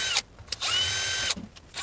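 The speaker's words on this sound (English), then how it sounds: "This plastic is super hard and you will crack the bottom just drilling it." Power drill boring step-up holes through hard, brittle plastic, with several short bursts of loud whining spin separated by brief pauses, the longest run lasting about a second, heard close up.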